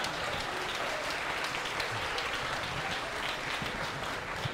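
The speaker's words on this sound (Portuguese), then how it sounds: "Uma salva de palmas para a nossa banda aqui" Dense, steady applause from a comedy club audience for a live band, loud and continuous throughout with no pauses.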